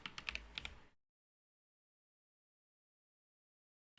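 Quick clicking keystrokes on a computer keyboard during an online tabletop game session, a brief close burst of taps lasting under a second before silence.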